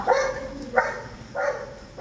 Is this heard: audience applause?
no